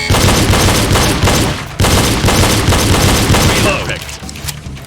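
Pistol shots fired repeatedly during a reload drill: loud, sharp cracks in an irregular string with a brief pause midway, close by and ringing out over a noisy background.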